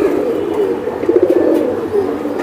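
Pigeons for sale cooing, a steady low murmuring coo from several birds close by, continuous over soft background noise.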